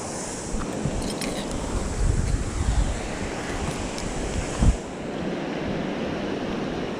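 Ocean surf washes steadily on a shore as the tide goes out, a broad continuous rush with gusty wind buffeting the microphone and a few louder surges, close and fairly loud.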